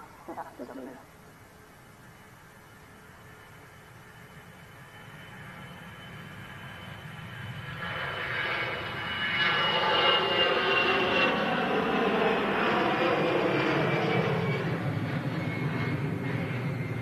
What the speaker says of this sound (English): the Aer Lingus flight to Dublin now begins its takeoff roll